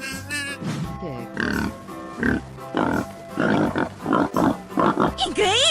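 Cartoonish pig grunts and oinks from an animal transformation video game, several bursts in quick succession mixed with voices and music.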